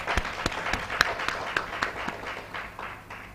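Scattered hand clapping from an audience at a real estate engagement meeting, a few distinct claps standing out over a soft, steady patter that lasts the whole stretch at moderate volume.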